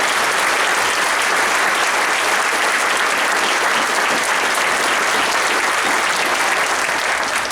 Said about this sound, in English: would you please give Senator Schickel a round of applause for fighting in this country?